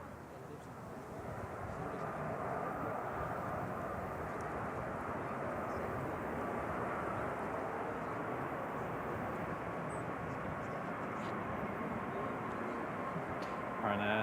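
A Boeing 737 MAX 8 jet lands at Manchester Airport, a distant, steady engine rumble and roar that rises after a quiet start and holds for most of the stretch, with faint voices in the background.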